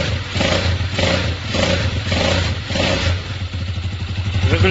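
A 164FMM motorcycle engine idles with a repetitive knocking, a close, steady clattering pulse over a rough mechanical drone, with no talking.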